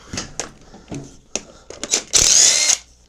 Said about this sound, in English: We'll get that one hammered back down.